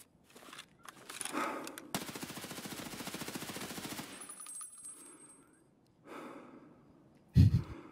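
Gunfire in the video game Escape from Tarkov, with a sustained rapid automatic burst lasting a couple of seconds, followed by quieter game noise and a sharp loud hit at the end.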